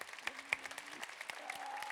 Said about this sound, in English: a big round of applause first